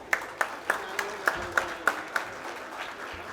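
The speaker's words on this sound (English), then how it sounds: "A huge round of applause." Applause from an audience at an event in Nagpur, heard as a quiet, sparse patter of separate hand claps about three per second, fairly distant and thin, without talking over it.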